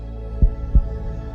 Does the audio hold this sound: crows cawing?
no